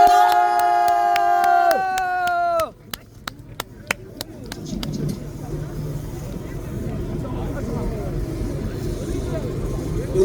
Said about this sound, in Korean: 여러분들 큰 박수 부탁드립니다. 크게 박수 주세요.